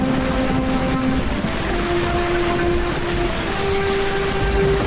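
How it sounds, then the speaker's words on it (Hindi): Heavy rain and storm wind roar as a steady, dense wash of noise for the whole stretch, with faint sustained tones running through it. "अरे आज तो कितनी तेज बारिश हो रही है, जैसे आज के बाद कभी बारिश ही नहीं होगी। इतना आंधी तूफान भी चल रहा है"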